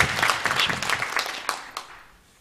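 Congregation in a Korean church clapping to welcome newly registered members during a New Year's service, a soft, diffuse patter of many hands that fades out within a couple of seconds.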